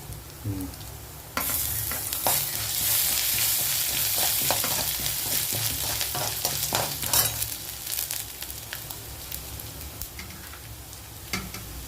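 Ginger pieces sizzle and crackle steadily in hot oil in a pan, with frequent stirring scrapes, fairly loud and close, and no talking.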